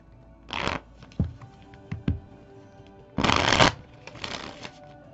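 Tarot cards are shuffled in several quick riffling bursts, with soft taps and handling sounds in between, close and clear with no talking.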